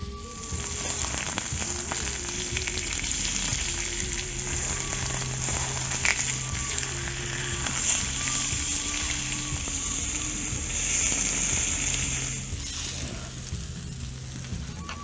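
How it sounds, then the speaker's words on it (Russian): Beef steaks sear on a very hot grill pan for fajitas, giving a loud, steady sizzle and crackle that fills the whole stretch with no talking. "И вот на такой вот раскаленной гриль сковородке буквально по минуте на каждой стороне"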